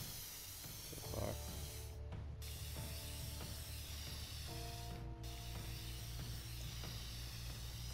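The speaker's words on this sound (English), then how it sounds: "I'm literally spray painting the whole thing." Spray painting in the video game Infamous Second Son: a steady aerosol hiss with rattling, mechanical clicks and tonal game sounds running continuously at moderate level.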